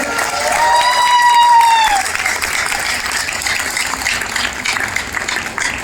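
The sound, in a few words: audience applause at a seminar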